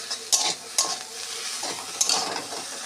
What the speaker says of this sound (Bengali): কুমড়ো পাতা ভাজা হয়ে গেছে